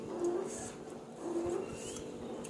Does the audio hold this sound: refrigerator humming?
yes